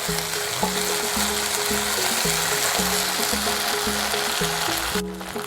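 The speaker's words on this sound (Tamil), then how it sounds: "எல்லாத்தையும் சேர்ந்து நல்லா வதக்கிக்கலாம்." Baby corn Manchurian sautéing with soy sauce and ketchup in a pan, a steady loud sizzle with repeated low tonal hum pulses underneath, cutting out abruptly near the end.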